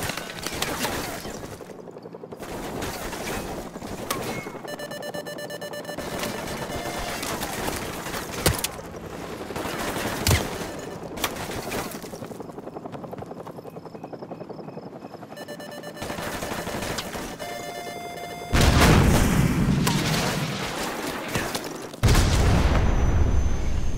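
A Stinger missile launched in a realistic forest combat video game, with a loud whooshing roar and booming blasts amid bursts of gunfire and layered battle noise, continuous and intense throughout.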